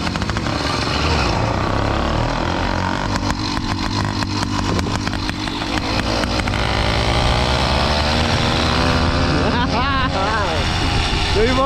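A small motorcycle on a road ride, its engine droning steadily and loudly throughout with some throttle variation, while people talk over the noise.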